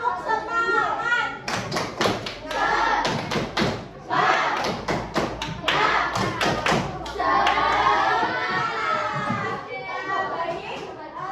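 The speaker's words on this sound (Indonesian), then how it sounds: "Sebelum mengerjakan kita boleh tepuk semangat dulu nggak?" A primary school class performs rhythmic spirit clapping (tepuk semangat) in a classroom, sharp hand claps and thumps in bursts alongside children's chanting voices.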